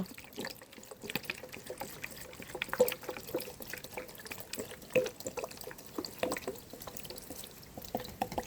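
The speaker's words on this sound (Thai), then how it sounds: "เทลงไปน้ำปลาให้ท่วมปูเลยนะคะเพื่อนจ้า" Fish sauce is poured over crabs, a soft trickling stream broken by scattered drips and splashes, fairly quiet and close.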